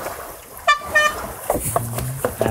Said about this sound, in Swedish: Vi startar på tuta.